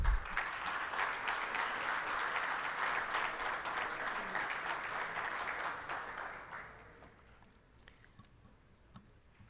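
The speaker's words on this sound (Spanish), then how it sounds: "Los recibimos con un fuerte aplauso." Audience at an international security and defense symposium giving a warm round of applause to welcomed guests, steady and fairly distant clapping that fades out after about six seconds into quiet room tone.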